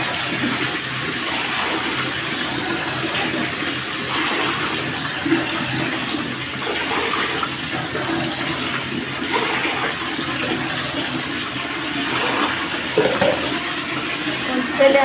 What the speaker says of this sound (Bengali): পানি ডালি।